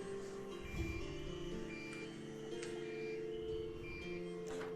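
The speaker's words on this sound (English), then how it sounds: "And yes, you can hear my printer in the background." A printer runs in a home workshop, giving off a quiet, continuous whir with faint pitched motor tones and small ticks that shift now and then in the background.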